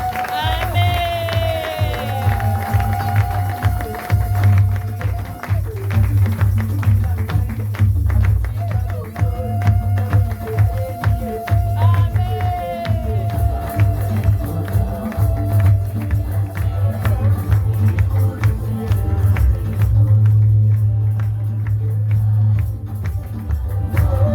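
Crowd in a church hall cheers and applauds a guest, steady dense clapping with scattered shouts and cries of joy over a low continuous rumble, loud and sustained throughout.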